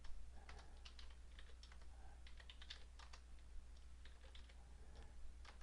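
Fingers tap keys on a computer numeric keypad in a quiet room, a steady run of soft, close clicks over a low constant hum.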